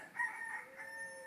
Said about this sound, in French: Le soleil se lève sur Lutèce, salué par un coq gaulois et matinal.